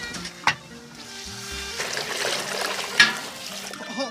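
Ginger, soybeans, dried chilies, Sichuan peppercorns and leaves fry in a wok, making a continuous sizzle with stirring scrapes and a couple of sharp clanks, close and moderately loud.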